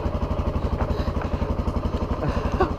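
A mini moto motorcycle engine runs as it warms up after starting with the choke, a close, steady, rapid putter with an even pulsing rhythm.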